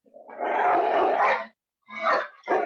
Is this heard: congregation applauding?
no